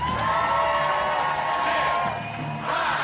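A crowd cheers and whoops continuously at a live event, a dense roar of many voices that holds steady and swells again near the end.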